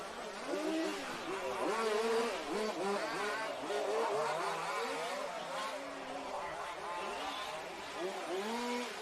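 Large-scale off-road RC race cars at a European championship final in Brittany, engines buzzing and revving continuously as they pass underneath, loud and close, with an announcer talking over the racing.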